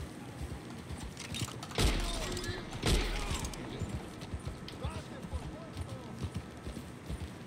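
Horse hooves clip-clop in Farming Simulator 22 with a steady rhythm of light thuds, two sharper impacts standing out early, while a voice talks over them throughout.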